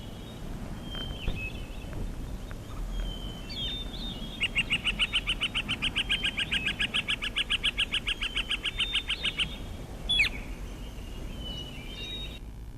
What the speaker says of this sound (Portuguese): Muitos sons do quê? De pássaros